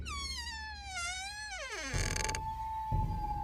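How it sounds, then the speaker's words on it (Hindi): A door creaking open by itself as a horror story sound effect, a long drawn-out squeal that bends downward in pitch, then a lingering whining tone with faint rumbles, loud and alone. "अचानक दरवाजा खुद ब खुद खुल गया"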